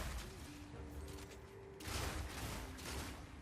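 Rapid bursts of permafrost bolts firing with quick reloads in a video game, dense crackling volleys overlapping one another and swelling louder partway through, over a busy battle ambience.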